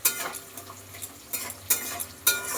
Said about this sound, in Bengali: এবার দেখো বন্ধুরা, আমার পেঁয়াজটা প্রায় ভাজা হয়ে গেছে।